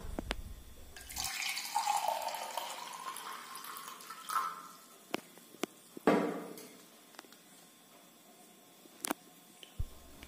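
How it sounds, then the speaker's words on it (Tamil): Water poured from a measuring cup into a Preethi Zodiac mixer grinder jar holding flour, a soft quiet splash and trickle lasting a few seconds, followed by light taps and clinks nearby. "இப்போ மெஷரிங் கப்பில் பாதி அளவுக்கு தண்ணியை சேர்த்துக்கலாம்."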